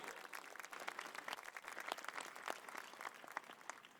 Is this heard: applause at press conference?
yes